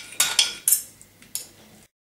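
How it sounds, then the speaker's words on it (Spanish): Cooked chicken being shredded with metal utensils against a dish: several sharp scraping clinks in quick irregular succession, close and clear, then silence. "Ahora hay que desmenuzar el pollo."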